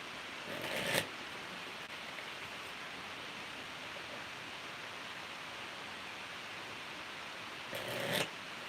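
Two brief riffling bursts of a tarot deck being shuffled, one at the start and one near the end, with quiet hiss between.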